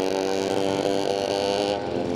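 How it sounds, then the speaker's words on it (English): A drag racing motorcycle at Santa Pod screams at full throttle in a steady, loud, harmonic-rich engine note, unbroken for the whole stretch with a slight change near the end. "The bike skipping about all over the place."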